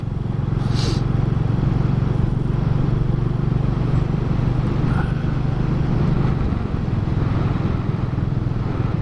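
A 2022 Royal Enfield 350 Classic motorcycle cruises along a road, its single-cylinder engine thumping steadily and loudly from the rider's position, with wind rush and a slight drop in engine note partway through.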